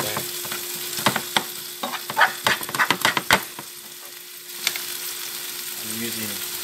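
Turkey cold cuts frying with eggs in a pan, a steady close sizzle broken by sharp clicks and scrapes of a utensil, with a low steady hum underneath.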